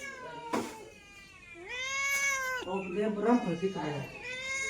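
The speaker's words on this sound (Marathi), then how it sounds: "काय मांजर चालू झालं मला वरडायला" A domestic cat meows loudly and close by, several drawn-out, rising and falling calls in quick succession.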